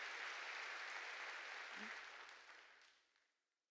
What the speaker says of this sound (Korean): 박수로 하나님께 박수를 치라.